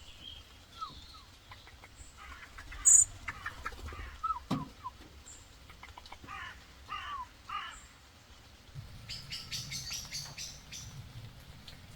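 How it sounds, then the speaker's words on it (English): Several birds call in the open in the morning in Wales: harsh cawing and clucking with scattered chirps, moderately close, no voices. "Waking up to the sound of the birds."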